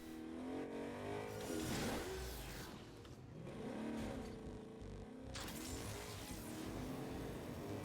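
A car engine revs and roars in the Agents of Mayhem video game, loud and continuous with rising and falling surges over a steady driving rumble.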